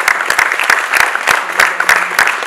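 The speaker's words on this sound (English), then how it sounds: "Would you mind standing up and give them a round of applause?" Audience applause at a café announcement event, a short burst of sparse, distinct hand claps close by, irregular and uneven in rhythm, with no voices.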